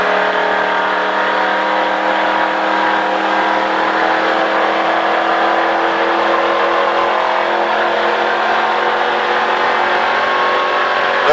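Stock car on a race track holding a steady, loud engine drone with a sustained tone, heard close from inside the car and continuous with little change in pitch.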